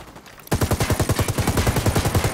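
Rapid automatic gunfire from the video game Ghost Recon Wildlands, a loud, close burst of evenly spaced shots that runs without a break after a brief quiet start.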